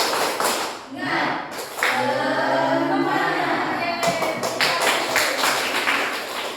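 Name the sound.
class doing rhythmic 'tepuk semangat' clapping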